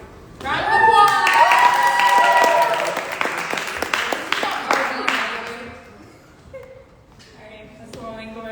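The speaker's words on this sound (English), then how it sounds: "Round of applause!" An audience at a poetry and tea event applauds, the clapping swelling quickly and holding steady for a few seconds before fading, with voices and cheers mixed in.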